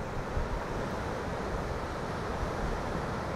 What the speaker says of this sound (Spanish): inspirado en esto mismo que estamos mirando, que es el mar.